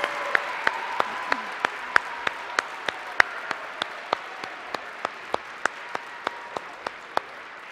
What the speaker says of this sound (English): another round of applause for our foundation band too.